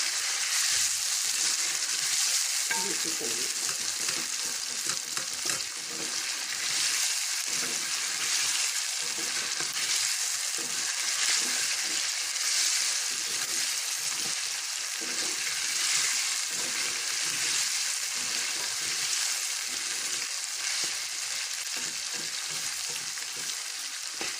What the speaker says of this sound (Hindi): जितना अच्छे से गोश्त ऑयल में फ्राई होगा उतना ज़्यादा टेस्टी बनेगा